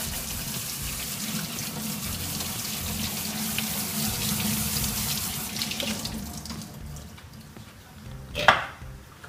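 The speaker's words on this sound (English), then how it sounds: "So I get the beans in here, give them a quick rinse." Canned beans rinse under a running kitchen tap into a sink, a steady close hiss of water that eases near the end, followed by a brief louder splash or clatter.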